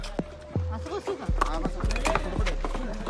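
Horse hooves clip-clop in a steady rhythm on a trail in Matheran while riders sit on the horses. The thudding steps sound close and moderately loud, and people talk over them.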